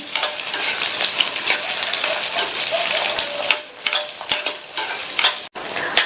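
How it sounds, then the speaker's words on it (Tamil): Peeled, cut potatoes roast in plenty of oil for aval upma, a continuous loud sizzle broken by scraping stirs and a few sharp clinks of a utensil against the pan. "எண்ணெயிலேயே இந்த உருளைக்கிழங்கை நல்லா ரோஸ்ட் பண்ணிக்கணும்"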